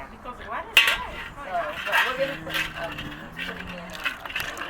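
Heavy cream being stirred into lobster bisque in a pot gives soft scrapes and clinks of a utensil against the pot, intermittent and close, under people talking.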